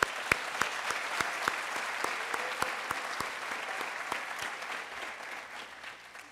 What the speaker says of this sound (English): give one more big round of applause for the amazing graduates sitting before us